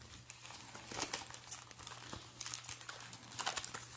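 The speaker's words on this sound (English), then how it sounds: "So we'll just do a little shuffling here." Yu-Gi-Oh trading card booster packs being shuffled by hand, a soft papery crinkling and rustling with small clicking taps that comes in bursts over a steady low hum, close and fairly quiet.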